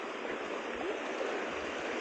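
Strong floodwater rushing past in a steady, broadband roar, continuous and fairly close for the whole stretch, with no voices over it.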